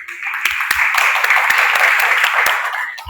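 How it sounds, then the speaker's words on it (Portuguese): A group claps for João during a plating class, a steady patter of hand claps with a few sharp individual claps standing out, continuous throughout. "Salva de palmas aí para o João."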